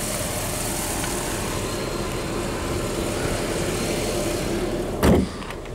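A silver 2000 Bentley Azure with a 6.75 liter turbo engine and 49,000 miles runs at a steady, even idle, a low continuous rumble close by, broken near the end by a single sharp thump.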